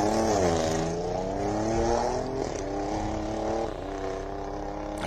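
A race car launches hard at the Simola Hillclimb, its engine revving loud and close with stacked rising harmonics, pitch climbing through quick gear changes over about five seconds of sustained roar.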